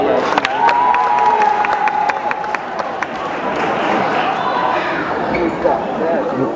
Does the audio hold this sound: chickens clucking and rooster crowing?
no